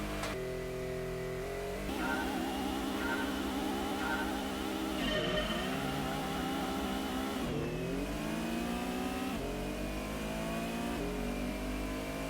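Race car engines revving in Gran Turismo 1, a steady mid-pitched drone climbing and dropping through gear shifts, with several cars roaring together at moderate volume.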